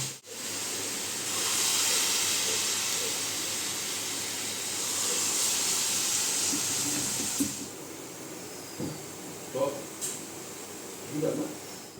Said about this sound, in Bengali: মা সুন্দরভাবে একে একে বড়া শেপে মিশ্রণটিকে তেলের ওপর ছেড়ে দিল